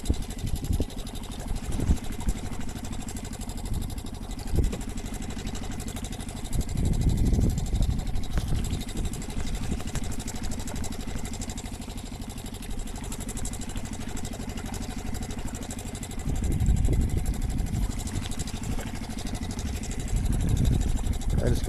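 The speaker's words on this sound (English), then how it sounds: "I do like the kicker motor going." A small kicker outboard motor on a fishing boat trolling on Lake Erie, droning steadily and close throughout, with a low rumble that swells louder in a couple of stretches.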